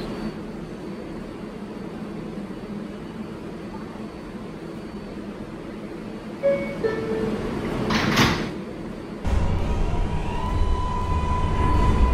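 Doors of an R142A subway train close at a station on a 4 express run via Eastern Parkway, amid steady car hum; a short clatter rises, then a solid thud gives way to louder low rumble as the train moves.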